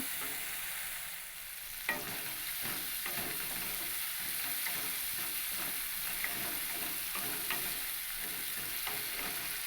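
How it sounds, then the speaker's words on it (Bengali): Spices sizzle and fry in a pan for Bengali chana dal with hing, with steady close frying and intermittent stirring scrapes throughout, no voices. "সমস্ত উপকরণগুলোকে ভালো করে একটু কষিয়ে নেব"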